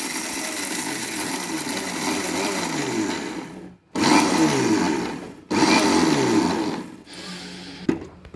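Roasted peanuts and roasted gram being coarsely ground in a kitchen mixer, with a loud whirring motor run in three pulses separated by brief stops, then a short final burst.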